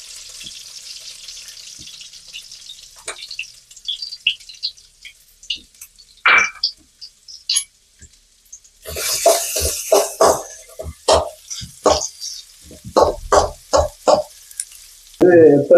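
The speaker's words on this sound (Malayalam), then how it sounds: "അത് തിളയ്ക്കുമ്പോഴത്തേക്ക് ഇഞ്ചി ഇട്ട് മൂപ്പിക്കണം." Ginger frying in hot coconut oil for a Trivandrum-style ginger curry, soft sizzling early, then clattering stirring scrapes and bursts of crackle up close.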